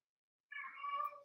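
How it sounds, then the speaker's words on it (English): A pet cat gives a single drawn-out meow, close and clear against silence. "I'm sorry for my cat."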